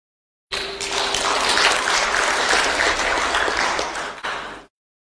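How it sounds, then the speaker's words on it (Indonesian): An audience applauds during a speech by Indonesia's Minister of Religious Affairs: a dense, steady wash of clapping that lasts about four seconds, dips briefly and then surges again before stopping abruptly. "Jadi jangan tepuk tangan dulu, Pak."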